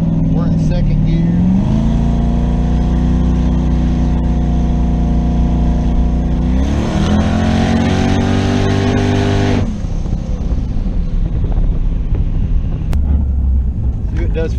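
A twin-turbo LS-swapped third-generation Camaro cruising in second gear, its engine droning loud and close with steady low harmonics, pitch climbing then easing off, with a brief surge of turbo rush and hiss before settling back; someone talks over it.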